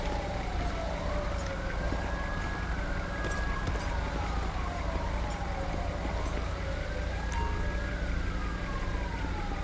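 An ambulance siren in Grand Theft Auto V wails in slow rising and falling sweeps, steady and fairly loud, over a constant low rumble of traffic-like background noise.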